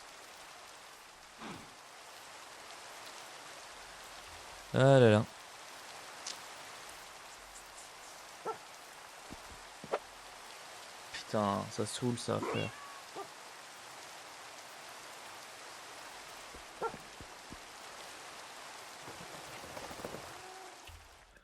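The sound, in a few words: rain falling in Minecraft video game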